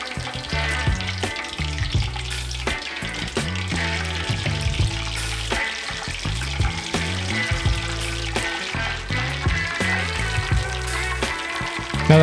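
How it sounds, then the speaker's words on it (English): Steady crackling and sizzling of tonkatsu frying in hot oil, a dense continuous bubbling hiss with small pops throughout. "You'll want to fry the tonkatsu for about 4 to 7 minutes in total"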